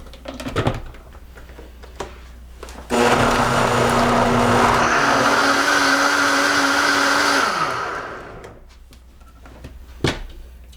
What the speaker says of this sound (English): and we blend